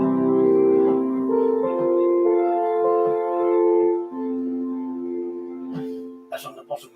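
Soft, sustained organ tones with a gentle flute-like quality, holding chords that shift slowly, ending with a few faint clicks.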